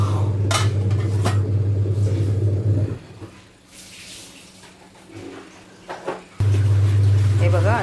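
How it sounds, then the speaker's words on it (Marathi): A lid goes onto a pan of Marathi-style mushroom bhaji with a brief metallic clatter. A steady low kitchen hum drops away for a few seconds around it, then returns. "आपण झाकण ठेवूया"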